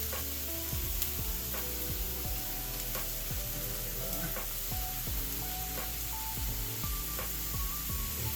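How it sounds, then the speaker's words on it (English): Bacon strips sizzle and crackle steadily in a hot pan, a dense frying hiss broken by frequent sharp pops and spits, close and continuous, with no voices. "you know the pan is hot enough when you hear that sizzle there"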